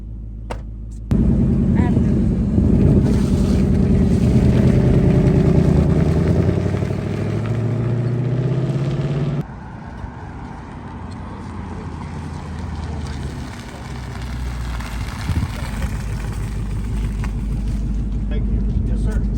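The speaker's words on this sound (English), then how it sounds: "We're driving the new Mustang here." A new Ford Mustang NASCAR pace car drives with a loud, steady engine roar that climbs in pitch, then abruptly drops to a lower rumble with wind noise.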